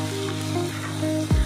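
Bengali bora fritters frying in a generous amount of oil, a continuous crackling sizzle close by, ending in a brief louder clatter or bump, with no speech.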